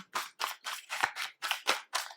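Eight quick crisp riffling bursts of tarot cards being shuffled in a steady rhythm, close by, with no talking.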